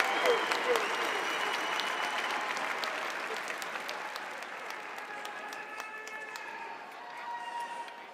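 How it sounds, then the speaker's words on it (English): An audience at Ohio State's Skull Session, a pre-game band event before the Michigan State game, gives sustained applause for university representatives. The clapping is dense and steady, then slowly fades. "Let's give a huge round of applause for these outstanding representatives and ambassadors of this great university."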